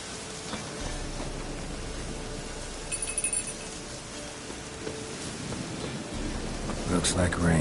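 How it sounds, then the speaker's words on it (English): Steady rain and rolling thunder in The Witcher 3: Wild Hunt, a broad continuous wash of rainfall with low rumbles and a brighter crack of thunder near the end. "Looks like rain."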